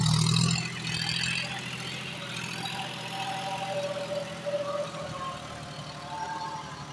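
A tractor with a rotavator attached runs at around 1500 to 1600 rpm in a field, its engine producing a steady, moderately loud, rough drone with a continuous low rumble that holds throughout.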